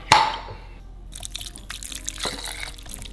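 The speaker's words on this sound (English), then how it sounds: "Pour a little bit of bone broth on top." Bone broth is poured onto chicken in a bowl for chicken noodle soup, a faint trickling and dripping after a sharp initial knock, close by with no talking.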